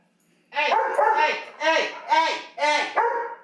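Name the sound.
dogs barking at night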